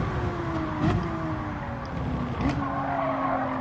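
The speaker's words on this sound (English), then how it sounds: "Wayne, you know I hate the sound of that Mazda." A Mazda race car in Gran Turismo 7 at Laguna Seca holds a high, buzzing engine note that rises through the gears, with tire squeal and skidding mixed in as it corners.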